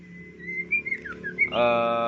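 A white-rumped shama sings a series of clear whistled notes, rising and falling, then ends on a loud sustained harmonic call; close and alone.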